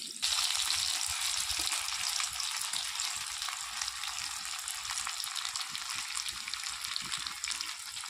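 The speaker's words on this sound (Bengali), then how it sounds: "তেল গরম হয়ে গেছে এবার বরফিগুলো ভেজে নিই" Cabbage barfi pieces fry in hot oil in a kadai, a steady close-up sizzle with fine crackling that holds evenly throughout.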